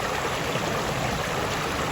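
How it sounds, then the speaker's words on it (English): Steady broadband rush of a small waterfall on Little Falls Trail in Promised Land State Park in the Poconos, continuous and fairly close with no voices over it. "it's still a waterfall. And we still love to see it and hear the sound."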